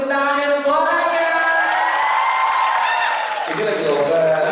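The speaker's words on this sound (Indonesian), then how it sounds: "Di tengah saya boleh tepuk tangan dan suaranya." Audience at the Aceh Islamic Fashion Parade 2017 clapping and cheering with shouts and whoops, a loud crowd roar that swells under a host's amplified voice and continues steadily.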